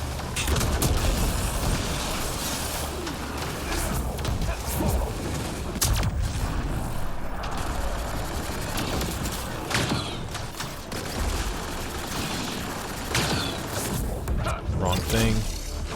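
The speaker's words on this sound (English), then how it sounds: "Defenses everywhere, and they're all shooting at us." Video-game defenses open up with repeated gunfire and booming shots, dense, loud bursts and thuds with mechanical clatter, mixed with occasional voices.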